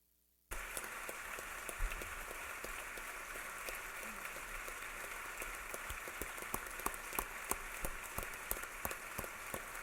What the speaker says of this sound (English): Will you please join me in applauding their bravery?